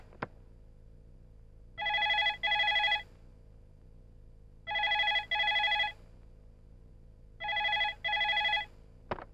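A phone rings for an incoming call, three evenly spaced bursts of a double electronic trill, each pair of rings loud and clear against a quiet background, with a faint click at the start and end.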